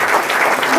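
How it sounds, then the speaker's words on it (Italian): An audience claps at the opening of an international art exhibition at Casa dei Carraresi, a short burst of steady, close applause from a crowd. "Facciamo un applauso a tutti presenti e partecipanti oggi."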